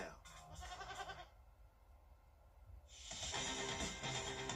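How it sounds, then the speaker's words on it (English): Goats bleating in several loud, close, wavering calls, with a pause in the middle before a busier burst of bleats. "What's with all the goats?"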